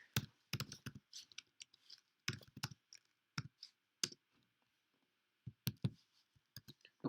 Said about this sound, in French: je clique ici